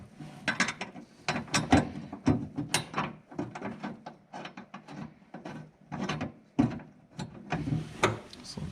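A bolt being threaded and turned in while installing a Valkyrie Engineering lithium battery kit, giving close metallic ratcheting clicks, scrapes and clunks in an uneven rhythm, with no speech.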